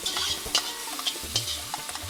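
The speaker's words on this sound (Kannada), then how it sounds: "ಫ್ರೈ ಆಗುತ್ತೆ ಸ್ವಲ್ಪ ತಿರ್ಸ್ಕೊಂಬೋಣ ನೀಟಾಗಿ." Chopped onion with fennel seeds sizzles in a hot pan with a steady, faint crackle while a spoon stirs it, scraping and clicking in short irregular strokes.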